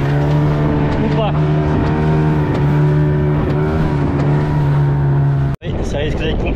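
A 15-horsepower outboard motor drives a small boat off a remote Jamaican island, a loud steady engine drone running continuously and close, briefly cutting out near the end, with people talking over it.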